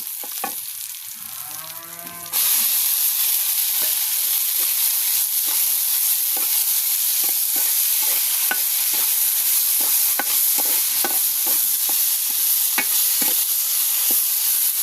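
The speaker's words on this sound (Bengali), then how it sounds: "এখন কড়াইয়ে কুচি করা কাঁঠালি বিচিগুলো দিয়ে দিব" Chopped jackfruit seeds fry in hot oil with browned onion in a wok, a loud continuous sizzle that bursts in abruptly after a quieter start, with scraping stir strokes repeating throughout and no talking.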